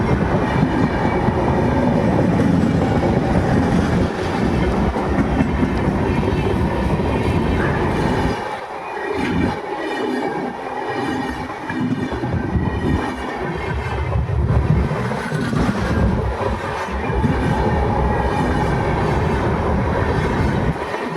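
A train rumbling past at close range, a loud continuous roar of wheels and carriages with faint clattering, the noise dipping briefly midway before rising again and holding steady to the end; no talking.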